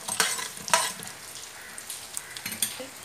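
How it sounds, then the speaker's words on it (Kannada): Mustard seeds, chana dal and cumin seeds sputter in a little hot ghee, giving scattered sharp pops and crackles over a faint sizzle, with an occasional light clink of a utensil against the pan. "ಪಟಪಟ ಹಾಕಬೇಕು ಸಾಸಿವೆ"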